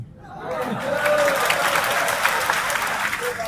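A dense crowd bursts into loud applause at a political speech, claps building quickly and holding strong, with faint voices and chuckles mixed in.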